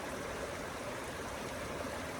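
A partly frozen waterfall on a slippery winter hike gives a steady, close, full rush of flowing water, constant and unbroken with no voices.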